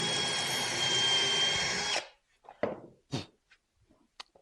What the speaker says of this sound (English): I'm just using just a regular drill bit now just to pilot these down.